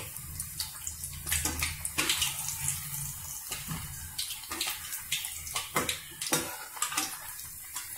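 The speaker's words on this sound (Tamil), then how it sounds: "இப்ப வடை இப்ப வெந்துட்டு இருக்கு." Black chickpea vadas fry in oil over a low flame, giving a steady, close crackling sizzle with scattered sharp pops and bubbling bursts throughout.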